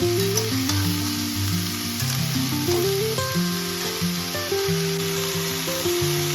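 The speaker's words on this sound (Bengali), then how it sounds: "এবার এখানে ভালো করে আমি নাড়াচাড়া করে নেব" Cauliflower stalks sizzle and fry in a pan while being stirred for a Bengali charchari, a continuous loud crackle with scraping stirs and a steady humming tone running underneath.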